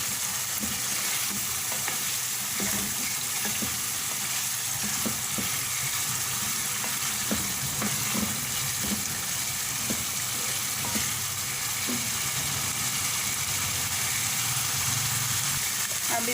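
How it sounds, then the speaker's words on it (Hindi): Fried chicken koftas are gently stirred into a sizzling pan of onion masala, giving a steady close hiss with soft scraping and light clinks of the spoon throughout, without talk. "तले हुए कोफ्ते इसमें शामिल कर देंगे। और हल्के हाथ के साथ मिक्स करेंगे।"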